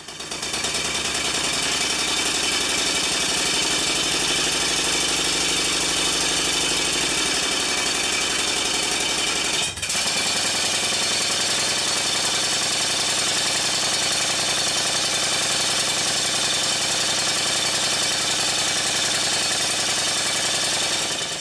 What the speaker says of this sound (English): I ran the engine on the bench to see what it was like.